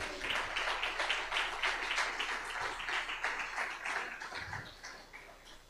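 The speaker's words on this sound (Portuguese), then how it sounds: "Pode aplaudir a Jesus." A congregation in a church applauds for Jesus during an evening worship service, a moderately quiet, steady wash of many hands clapping at a distance that fades slightly toward the end.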